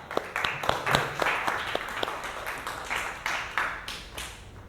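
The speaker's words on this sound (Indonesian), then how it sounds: "tepuk tangan untuk Mbak Indah dan Mbak Raisa" Scattered applause from a class of students in an Indonesian teacher-training lesson, a loose run of individual hand claps spread across the clip at moderate distance, with no voices over it.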